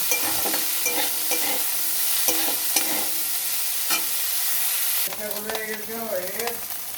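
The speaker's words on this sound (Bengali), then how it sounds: "দিয়ে এটাকে একটু ভাজা ভাজা করে নেব।" Cauliflower stir-fried in oil with salt and turmeric, a steady close sizzle broken by spatula scrapes and stirring knocks, the frying sound shifting midway as the pieces are tossed.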